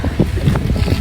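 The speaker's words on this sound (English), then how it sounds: "it's really windy out here" Steady wind buffets the microphone in low, rumbling gusts, with a constant roar and no other distinct sounds.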